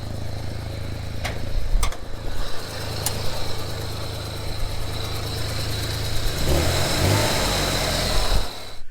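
A Chevrolet Corvair engine with suspected bad ignition timing idles steadily and close by, a low continuous rumble broken by a few sharp pops early on and a brief rise in revs near the end.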